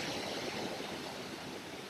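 Waterfall near Pucón, Chile: a steady, broad rush of falling water fills the scene, even and moderately loud, with no voices.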